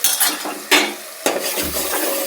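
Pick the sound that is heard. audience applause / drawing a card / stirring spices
stirring spices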